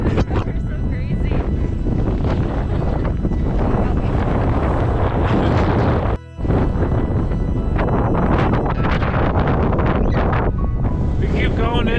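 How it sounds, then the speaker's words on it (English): Strong wind buffets the microphone at a cave entrance near Colorado Springs, a loud continuous roaring rumble with one brief dropout, as people talk over it. "We could probably block out a wind."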